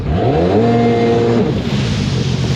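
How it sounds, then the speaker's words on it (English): A 1995-96 Sea-Doo XP jet ski engine fires up and revs, its loud close buzzing drone climbing in pitch for about a second, then easing back to a rough idle. "Held the starter button, gave it a little bit of gas."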